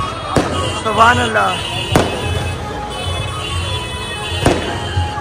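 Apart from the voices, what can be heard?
firecrackers bursting during procession at Ajmer Sharif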